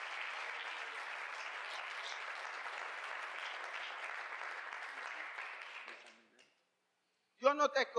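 Congregation at a church service applauds for Jesus, a steady, fairly faint sustained clapping that fades out after about six seconds, followed by silence and a brief burst of talk.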